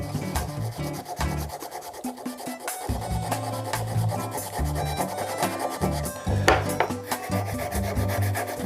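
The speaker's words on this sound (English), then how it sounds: "just by sanding off the top layer but leaving the lower layer in as well" Steady rasping of sandpaper rubbed back and forth over a burned wooden shaving brush handle, close and continuous, with a brief pause near the start.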